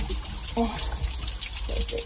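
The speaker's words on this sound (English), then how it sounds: "It's all running water." Water runs and gushes steadily during pool vacuuming without a skimmer, close and fairly loud, while a person briefly speaks over it.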